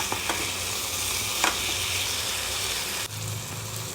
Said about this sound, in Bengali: আর আমি কাঁকড়াগুলো খুন্তি দিয়ে কেটে নিয়েছি, নিয়ে আরও ভালো করে কষাচ্ছি।